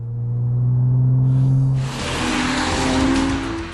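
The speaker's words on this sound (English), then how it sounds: "lets the driver choose an even throatier engine sound" Porsche Cayman with a sport exhaust gives a loud, close engine note, a steady throaty drone that briefly dips, then rises again with a rougher, brighter roar, with no talking.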